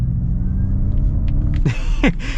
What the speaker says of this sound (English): Now going back, we're gonna get an acceleration again because it's fun.